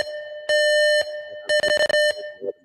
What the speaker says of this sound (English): a leak alarm going